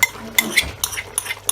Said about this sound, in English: at this point I'm going to add the palm nut paste